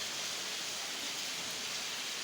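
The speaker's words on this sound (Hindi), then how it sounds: "बारिश अल्लाह तला ने बहुत तेज़ भेज दी है" Heavy rain pours down steadily in a dense, continuous hiss that stays even and fairly loud throughout, with no voices over it.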